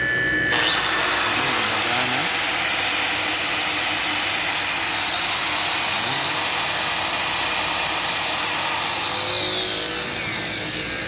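A mini generator's small engine runs at high speed, a loud, close, continuous buzzing whine that climbs as it revs and holds steady before easing slightly at the end.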